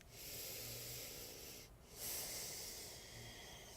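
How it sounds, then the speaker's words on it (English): Deep, slow breathing during a mellow back-release yoga session, a long exhale followed by a brief pause and another breath, close and soft with no talk. "Let's keep doing this for 3 more deep breaths."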